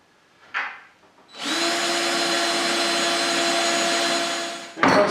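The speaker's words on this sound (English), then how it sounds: "let's drill the holes" A power drill bores holes in a wooden cabinet door for a hutch. It winds up into a steady, loud whine for about three seconds, then cuts off, with a brief knock before and after.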